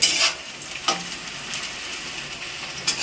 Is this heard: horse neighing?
no